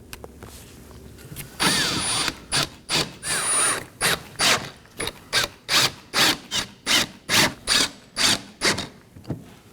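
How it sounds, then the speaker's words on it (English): Five T15 Torx screws being snugged down on a 2018-2024 Chevrolet Equinox 1.5L front bumper with a ratchet, a steady series of close, loud rhythmic clicking bursts following an initial scraping push, with no talking. "Now I'm going to go ahead and snug down my 5 T15 Torx screws."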